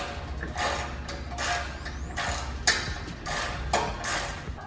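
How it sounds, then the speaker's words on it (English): A hand ratchet works on skid plate bolts of a Jeep JT or JL with a rapid string of close clicking strokes in short repeated bursts, fairly quiet, with a few sharper metallic clicks among them. "we're going to take off these two bolts to get rid of the skid plate"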